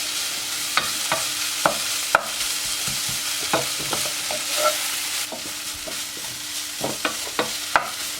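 Soaked gundruk, dried fermented radish leaves, stir-fried in a pan: continuous sizzling with repeated sharp scrapes and clinks of a spatula against the pan, close and fairly loud.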